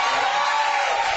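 A studio audience cheering and whooping loudly, a continuous burst of crowd noise that stays strong throughout.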